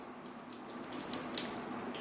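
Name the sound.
water leaking from a home water filter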